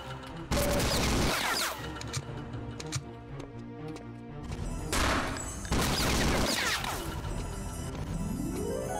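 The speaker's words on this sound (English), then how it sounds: "This chain gun is so powerful, it just shreds the flesh off enemies." Rapid bursts of chain gun fire from the PC shooter Wolfenstein 3D, loud and dense with short pauses between volleys, mixed with game sound effects and music.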